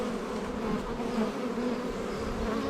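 Honeybees buzz steadily and closely at an opened production hive while a super is being placed, a dense continuous hum with no break.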